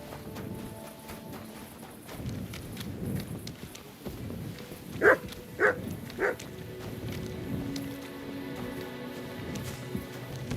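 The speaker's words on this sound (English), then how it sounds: "You silly doggy." A dog in the medieval town of Kuttenberg in Kingdom Come: Deliverance II gives three sharp barks a short way off, over ambient game sounds and footsteps.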